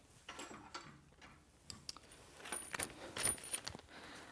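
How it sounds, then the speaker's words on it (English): Metal tools clink and rattle close by as an Allen wrench and a combination wrench are picked up during the assembly of a Pilates reformer, with a scatter of short, bright metallic taps and jangles. "I'm going to grab an Allen wrench and my combination wrench"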